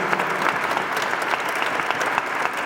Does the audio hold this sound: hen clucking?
no